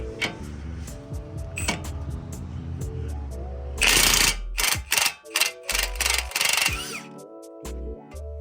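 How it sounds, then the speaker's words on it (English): An impact gun removes strut bolts on a 2014 Honda CR-V, with several loud rattling bursts in close succession amid metallic clicks and workshop clatter. "I'm using a gun to remove."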